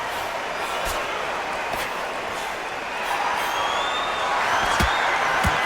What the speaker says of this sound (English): you can hear everybody in the crowd